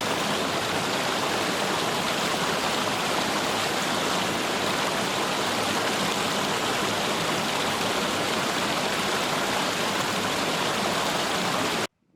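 Running water of a mountain stream in the Adirondack High Peaks rushes steadily and loudly, a dense, close broadband wash with no voices, cutting off abruptly just before the end.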